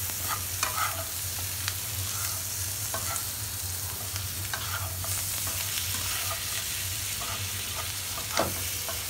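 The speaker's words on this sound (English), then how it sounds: "Now mix it very gently" Masala broccoli and potato with a dollop of butter and chopped coriander gently stirred in a pan, steady sizzling with soft scraping strokes of a spoon, close and without talk.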